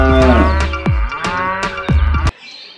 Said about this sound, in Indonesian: Ini adalah sapi perah,